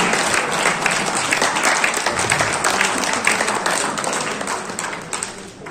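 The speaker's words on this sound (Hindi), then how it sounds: "आपसे होगा जोरदार तालियों से इनका स्वागत" Loud, dense applause from a crowd welcoming a guest at a Samajwadi Party workers' gathering in Kiratpur, steady and sustained throughout without pause.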